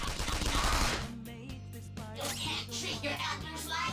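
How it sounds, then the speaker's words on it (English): Gunfire from a character attacking in the turn-based battle of Persona 5 Royal: a few sharp cracks over a steady low game music bed, with speech-like noise mixed in. "try shooting her."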